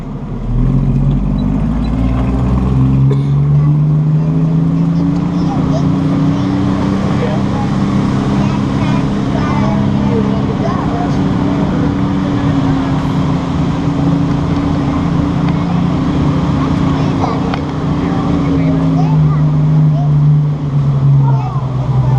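A tram drives through Fantastic Caverns on an old riverbed, its engine a steady mid-pitched drone that rises and falls slightly, with a voice speaking over it at times.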